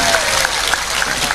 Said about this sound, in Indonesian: Tepuk tangan untuk Pak Dandim